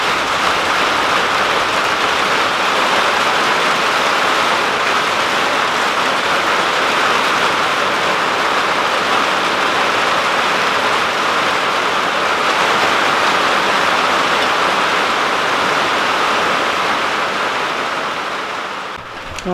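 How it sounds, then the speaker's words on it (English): Steady, dense rain pours down continuously on a greenhouse, a broad hiss of drops on surfaces that holds loud and even before easing slightly at the very end. "Here comes the rain."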